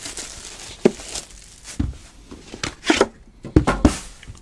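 A sealed 2016 National Treasures NASCAR trading card box is opened close up, with crinkling plastic wrap, tearing and cardboard flaps snapping in uneven bursts, and no talk.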